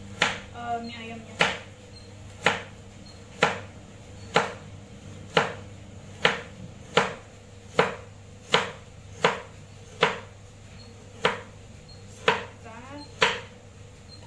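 Knife chops carrot and other vegetables on a board for mie ayam, about a dozen sharp, evenly spaced thuds roughly a second apart, close and clear, with a brief spoken word.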